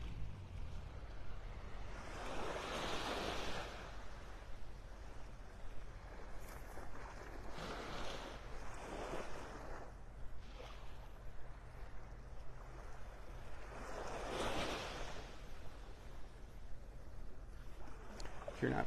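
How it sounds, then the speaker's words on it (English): Gulf waves at the beach at Pelican Bay, just south of Vanderbilt Beach in North Naples, Florida, soft and distant, with several gentle swells rising and falling over a steady rumble of wind and surf. "this is the beach at Pelican Bay, just south of Vanderbilt Beach in North Naples, Florida"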